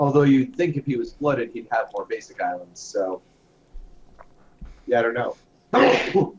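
A single sharp sneeze bursts out near the end, after a stretch of casual talk among commentators at a competitive Commander (EDH) Magic: The Gathering tournament stream.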